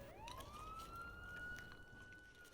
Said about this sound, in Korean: 창밖에선 점점 가까워지는 경찰의 사이렌 소리